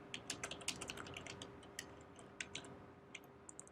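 Quick bursts of keystrokes on a computer keyboard while a URL is entered, soft and close, irregular clicks in short runs with brief pauses, alone over a faint steady hum.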